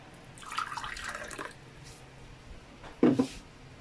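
About half a glass of water splashes into an aging blender while Indonesian sambal is being prepared, in two short close bursts separated by a quiet pause.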